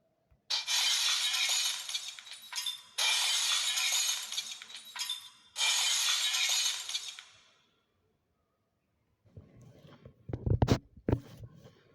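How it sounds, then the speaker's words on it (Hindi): Glass leaves breaking in a windy night storybook scene: three long bursts of crashing, shattering glass, followed by a quieter stretch of tinkling and clinking fragments with a few sharp cracks near the end. "तेज हवा चलने से सारे के सारे कांच के पत्ते टूट गए।"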